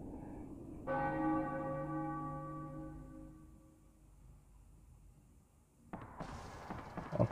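A church bell in Final Fantasy 9 sounds a single deep struck tone with long ringing overtones that slowly fade, then a burst of sharp crackling noise near the end, with no talk.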